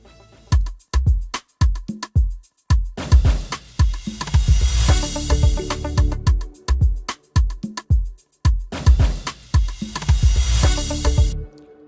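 A punchy stomp hits again and again in a steady rhythm, while a shimmering cymbal roll swells up loudly twice in the middle.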